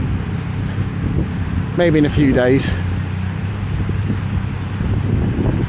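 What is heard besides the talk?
wind blowing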